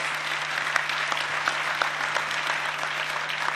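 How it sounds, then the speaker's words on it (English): Steady, dense applause from a CPAC 2011 conference audience for David Keene, an even wash of many hands clapping that holds at a constant level over a low electrical hum. "And he deserves a big round of applause."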